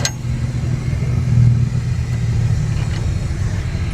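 A Chevy Silverado pickup stuck in beach sand, its engine giving a steady, close, loud low rumble throughout with a slight swell near the middle, and no voices.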